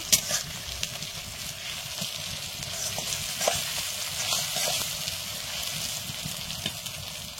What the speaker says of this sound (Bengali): পেঁয়াজটা এখনো ভাজা হয়নি, আর একটু লাল লাল করে ভেজে নেব